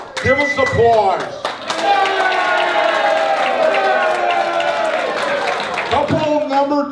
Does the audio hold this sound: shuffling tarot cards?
no